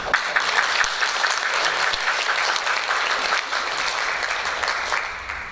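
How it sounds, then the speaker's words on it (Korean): A church congregation applauds the choir after an Easter cantata at a 2019 Easter service. Dense, loud, sustained clapping fills the room and tapers slightly toward the end. "성가대 우리 하나님께 영광의 박수로 올려드리겠습니다"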